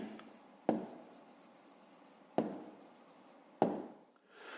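A pen writes numbers on paper while a math problem is being solved. Soft scratching strokes are broken by three sharp taps, close and quiet.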